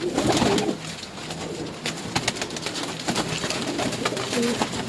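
Pigeons coo repeatedly in a loft of flying breeds, soft throaty calls rising and falling over a steady background bustle, with faint voices now and then.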